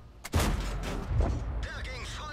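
An M41 90mm GF tank cannon fires in a World of Tanks battle: a loud heavy boom, then a second blast that rolls into a long rumbling tail, with a commentator's voice in the background.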